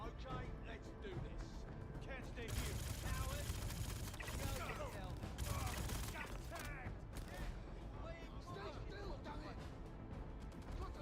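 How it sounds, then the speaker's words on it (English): Gunfire in the game Star Citizen crackles through a busy, dense mix of shots and impacts, loudest in bursts around the middle, with someone talking over the action. "is he shooting me?"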